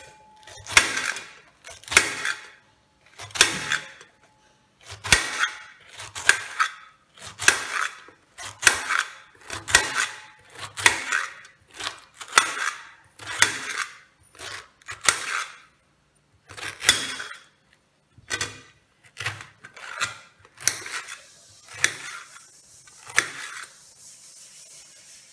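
A knife slices a pineapple into pieces, giving a long series of separate crunchy, fibrous cuts, each a short scraping burst with brief gaps between them, close up and moderately loud.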